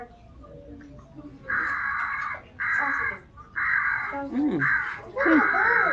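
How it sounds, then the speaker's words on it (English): An odd bird call at Belle Isle State Park repeats in several harsh, nasal bursts about a second long, fairly close, ending with a few sliding warbled notes. "That sounds like a weird bird."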